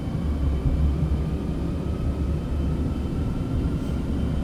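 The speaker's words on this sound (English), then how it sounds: "Takeoff thrust, coming up. You can hear the grooved runway sound" Citation X business jet on its takeoff roll down a grooved runway in a flight simulator, a steady loud low rumble of engine thrust and tyre roar that holds evenly throughout.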